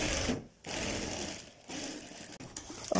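A sewing machine runs a straight seam on a child's kurta, a steady dense whirr of rapid stitching with two brief pauses where the needle stops before starting again.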